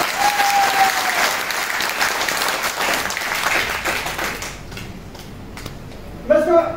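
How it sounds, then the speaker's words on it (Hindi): A crowd at a network marketing plan presentation claps in a dense, sustained burst that thins out after a few seconds into scattered claps, then a voice comes in. "यार अगर ताली मार दिया तो फिर के मारा करो"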